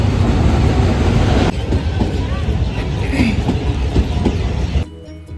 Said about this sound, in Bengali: সকালে যে ট্রেনে এসেছিলাম এখন সেই ট্রেনেই ফিরব